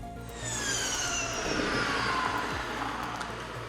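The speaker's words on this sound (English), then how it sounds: "you have the pure and direct pulsations by the engine near to the ear." A Ferrari hybrid powertrain engine pulls hard with a rising, smooth whine and a loud, close, sustained roar, heard alone without talk.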